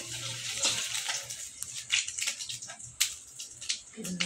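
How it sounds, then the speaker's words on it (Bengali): Cumin seeds and bay leaves drop into hot oil left over from frying fish, giving a crackling sizzle with sharp pops and spits scattered irregularly over a few seconds, close by and with no talk. "ওই মাছ ভাজা তেলের মধ্যেই সাদা জিরা আর তেজপাতা দিয়ে দিলাম।"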